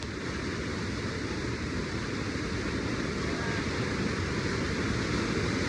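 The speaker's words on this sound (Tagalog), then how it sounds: "nandito tayo sa Pantihan Falls" Pantihan Falls waterfall pouring with a steady, dense roar of rushing water, loud and constant throughout with no breaks, heard alone.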